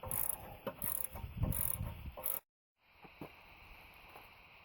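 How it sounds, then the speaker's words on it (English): A castle nut being removed from a vehicle's tie rod during a front spacer lift install, with a quick run of ratcheting clicks, a brief silence, then fainter metallic ticks. "Now we'll take off that castle nut."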